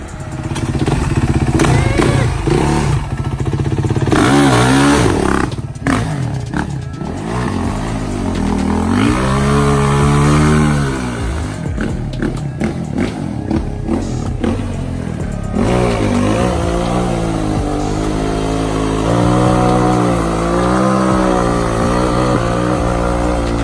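A 450cc dirt bike engine revs and rides up close, loud throughout, its pitch surging and dropping through repeated throttle blips and gear changes, with occasional clattering thumps.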